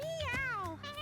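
A cat meows once in the video game Mewgenics, a short, clear, rising-and-falling call, loud and close.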